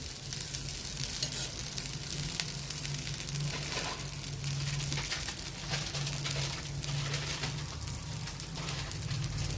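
A dosa sizzles with oil on a hot chapati pan, a steady close crackling hiss that runs throughout with a faint low hum beneath.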